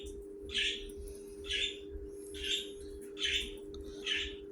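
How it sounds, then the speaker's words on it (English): Pet birds kept indoors squawk in the background, five harsh raspy calls at roughly regular intervals over a steady electrical hum, fairly faint and with no talking. "Sorry about the noise. The birds are in the back."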